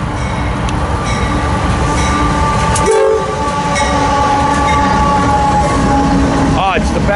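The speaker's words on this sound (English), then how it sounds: "Thank you, Mr. Engineer, for the little horn salute." Passing ballast cleaner train on a rail line sounding a short horn salute midway, the horn's tones over loud continuous rumble and wheel clatter of the wagons close by, with some voice near the end.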